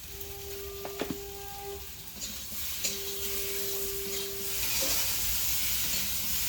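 Spices with turmeric powder and salt being stirred and fried in a pan for a Bengali magur and shol fish curry, giving a steady close sizzle with a few sharp spoon clinks and scrapes.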